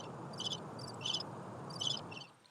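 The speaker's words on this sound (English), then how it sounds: "Well, that's a cricket." Cricket chirps play as ambient noise: a few short high trilling bursts in roughly regular pulses, faint over a steady low rumbling hum.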